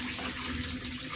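Tap water runs in a brief steady splash while moong dal is washed in a kitchen, a close, continuous rushing hiss with no voices.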